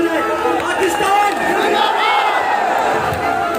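A large crowd of Pakistani community members at Flag Plaza in Qatar shouts and cheers loudly together in a sustained, dense roar of many voices.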